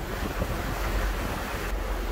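Ocean waves and wind on a ship voyage nearing Vladivostok, a steady rushing wash of surf and wind noise buffeting the microphone, continuous and fairly loud throughout.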